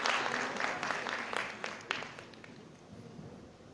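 An audience at a biology research conference applauds after an oral presentation; a fairly faint, steady patter of many hands clapping at a distance, with no talk over it.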